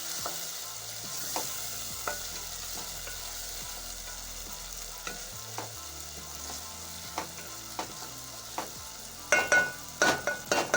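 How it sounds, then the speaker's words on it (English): Spoon stirring matoke (unripe green bananas) with garlic, ginger, pepper and salt in a cooking pot, a steady sizzle under repeated scraping knocks, with a burst of louder clanks toward the end. "stir everything together that is in the cooking pot"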